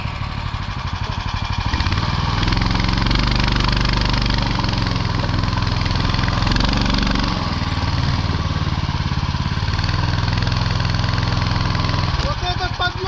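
In winter, a snowmobile engine drones loudly and steadily while pulling a sled, with a rough, mid-pitched roar close by and voices heard over it.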